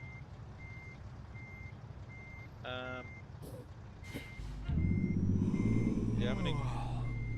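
A Kenworth K100 truck backing out gives steady, evenly spaced reversing beeps that run throughout, with engine rumble rising near the end, a hiss like air brakes, and someone talking briefly over it.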